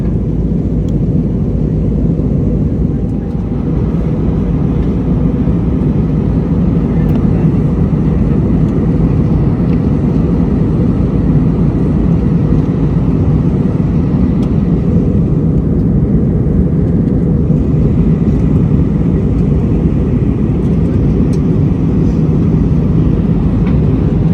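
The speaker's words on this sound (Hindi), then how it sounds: "अभी हम लोग जो है वो लैंड करने लगे हैं यहाँ पे।" An AirAsia airliner landing on the Manila to Palawan flight, heard from inside the cabin as a loud, steady engine roar and broadband rumble that holds constant throughout, with no talking.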